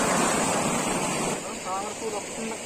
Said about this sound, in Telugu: ఈ చెరువు అయితే నిండిపోయి నీళ్ళు ఇలా వెళ్తున్నాయి